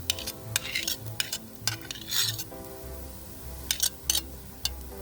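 Chopped garlic, ginger and tomato stirred into fried onion in a pan for Memoni-style chicken biryani: a series of scraping, clinking utensil strokes over a low steady sizzle, close and fairly quiet.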